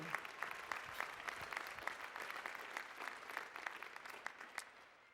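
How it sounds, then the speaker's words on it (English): A commencement crowd at Oregon State applauds graduates' families on Father's Day, a faint, steady patter of many hands clapping for about five seconds before tapering off at the end. "let's give another round of applause to your family"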